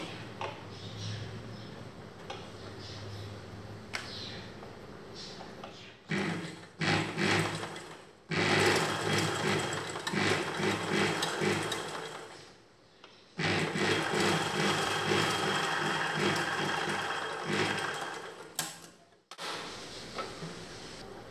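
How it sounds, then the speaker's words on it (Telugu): Sewing machine stitching along the back neck of a blouse, running in several steady bursts of rapid mechanical whirring with brief pauses between runs, close and fairly loud with no talk. "ఇప్పుడు దీని పై వైపున ఇలా పెట్టుకొని కుట్టు వేసుకోవాలి."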